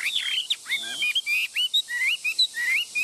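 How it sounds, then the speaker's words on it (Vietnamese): A tamed songbird sings up close in bright, rapid chirps and whistled phrases, with short bursts separated by tiny gaps and no other sounds. "Chim thuần hot tốt, đấu tốt các bác nhá."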